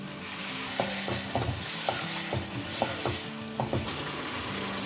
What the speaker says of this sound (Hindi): और इसको भून लें।